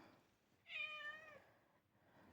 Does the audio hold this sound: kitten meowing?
yes